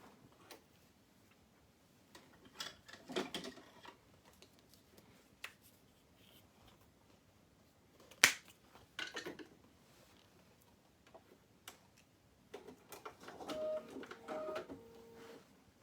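An embroidery machine works orange decorative stitches, heard as faint, scattered mechanical ticks and soft whirring, with one sharp tap midway and a busier patch of clicking toward the end.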